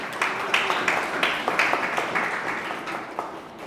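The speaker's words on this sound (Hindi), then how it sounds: "आइए जोरदार ताली से उसको खुदावंद यीशु से धन्यवाद करें" Steady applause from a church congregation, many hands clapping in a dense, rolling wash that holds for several seconds and fades slightly at the end.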